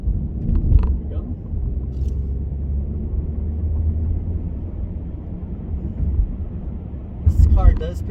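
A 2021 Mazda 3 accelerates from inside the cabin, its engine a steady low rumble of building drive and road noise throughout, with a brief louder surge near the end.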